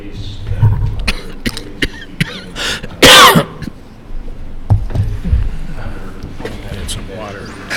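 A single sharp cough or throat clear bursts out loudly amid background talk and shuffling noises during a village council meeting.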